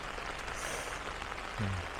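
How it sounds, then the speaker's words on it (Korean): Steady rain falls at a mountain campsite, a dense even patter close by with no voices, and a low brief rumble near the end. "지금 비가 와서 공사도 잠시 멈춘 듯 하고, 일단 빗소리가 더 강하기 때문에"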